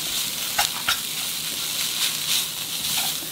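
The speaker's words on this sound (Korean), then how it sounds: "달궈진 후라이팬에 조물조물한 깻잎은 넣으시고요. 달달달달 볶아주세요." Blanched, seasoned perilla leaf shoots stir-fry in a hot frying pan with a steady bright sizzle and a few sharp scrapes and clatters of stirring, close and continuous with no talk.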